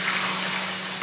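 Bay leaves, dried chillies and soaked chickpeas frying in hot oil, giving a dense, even hiss that stays loud and steady through a very short moment.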